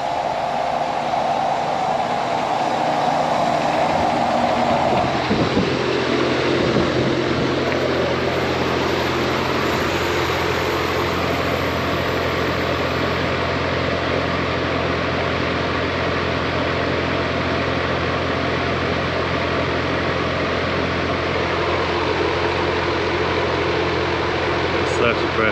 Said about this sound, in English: Condenser just kicked on though.